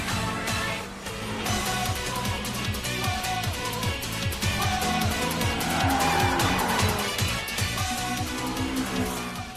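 Toyota AE86 launching hard, its boosted engine revving up through gears with tire squeal, loud and close, joined by another race car engine.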